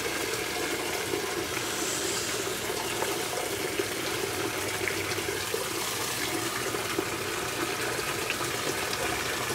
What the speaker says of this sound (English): even though it's up, it will fill with the lid open.